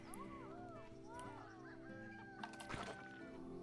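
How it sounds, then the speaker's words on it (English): Chickens clucking in the zoo-building game Planet Zoo, a run of quick, bright clucks and squawks at low volume over a steady ambient hum, with brief louder bursts toward the end. "chickens are going again."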